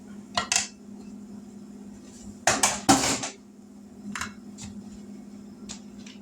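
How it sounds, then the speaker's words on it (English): A spoon stirs coconut cream pie filling in a pan, making a few scattered metallic clinks and scrapes against the pan, including a quick cluster near the middle, over a quiet low steady hum, with no speech. "So we're just going to stir it, and then we'll stop for just a minute."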